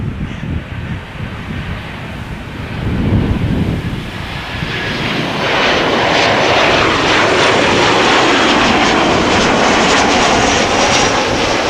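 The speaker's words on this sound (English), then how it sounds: "So we have the A380" Airbus A380 jet engines roar loudly and steadily, building from a distant rumble to a broad, sustained close-range din with wind buffeting the microphone.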